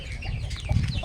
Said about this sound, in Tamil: கோழி குஞ்சு, கோழிலாம் வளர்க்குறாங்க.